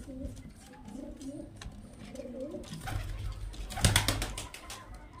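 Soft, low cooing from Murshidabadi Giribaz and other fancy pigeons repeats in gentle rolling phrases, fairly close, with faint background noise and a brief louder rustle near the end.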